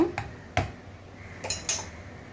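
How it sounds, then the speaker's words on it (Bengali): A metal lid goes onto a cooking pot of haleem with a few sharp clanks and clinks, close and brief, spaced across a couple of seconds. "এখন হচ্ছে এটাকে আমি ঢাকনা দিয়ে ঢেকে দেব"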